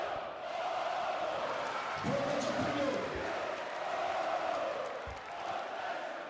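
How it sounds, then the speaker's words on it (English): Basketball arena crowd in Tuzla roaring steadily throughout a World Cup qualifier between Bosnia and Herzegovina and Lithuania, a dense wash of cheering with a few louder swells and shouts. "imagine what it's like to be here and amongst this crowd"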